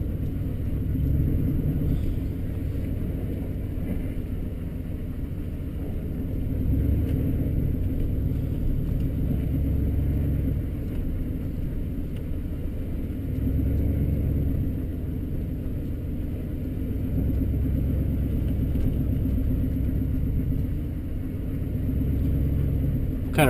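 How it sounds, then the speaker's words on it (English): A truck drives along the shoreline of frozen White Bear Lake on a January morning, its engine a steady low rumble inside the cab, continuous and close with no talk. "Kind of riding the shoreline here with my truck"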